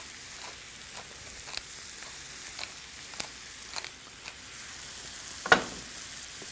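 Turkey pot pie filling of wild turkey with coarse pepper sizzles steadily as it heats in a pan, a soft continuous frying hiss dotted with small pops and one louder crackle, with no talking.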